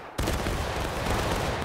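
A massed musket volley fired by a line of infantry in the War of Rights game, a sudden loud crackling burst of many overlapping shots that rolls on as a dense roar, with no talk.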